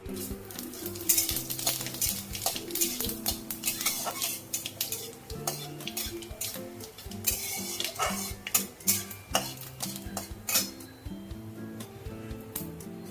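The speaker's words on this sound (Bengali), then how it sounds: "সর্ষের তেল দিয়ে দিলাম। একটা শুকনো লঙ্কা, একটু সাদা জিরে আর তেজপাতা ফোড়নে দিয়ে দিলাম।" Dried red chilli, cumin seeds and a bay leaf temper in hot mustard oil, giving a constant crackle under repeated clinks and scrapes of a utensil against the pan, with no talking.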